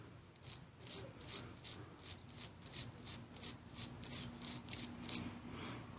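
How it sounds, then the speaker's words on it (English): Wire brush scrubbing a corroded aluminum encoder, rapid rhythmic rasping strokes, close and fairly quiet, repeating steadily throughout. "I've got this wire brush here, so we can kind of clean the encoder."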